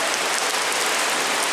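Heavy rain pours steadily onto a surface under a shopping arcade roof during a heavy rain warning in Yamato-Takada, a dense, loud, continuous hiss with no other sounds.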